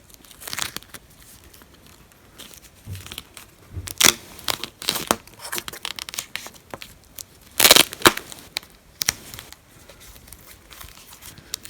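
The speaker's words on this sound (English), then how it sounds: "Once you have the general circle shape, you can just go ahead and cut it out." Scissors or a blade cut out a traced circle shape for a life-size Fortnite pickaxe prop, making irregular crinkling snips and crunchy cuts close by, with louder bursts scattered among quieter stretches and no talk.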